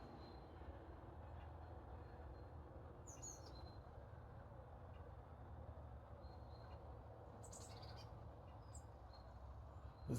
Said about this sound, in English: There's lots of bird noise here.